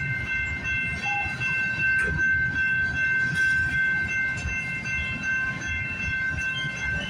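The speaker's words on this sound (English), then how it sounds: "there's the end of that local train" A local freight train rolls past steadily and fairly loud, a continuous rumble with rail noise and a faint high tonal whine running throughout.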